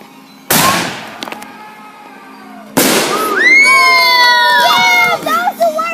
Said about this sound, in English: That's my fireworks.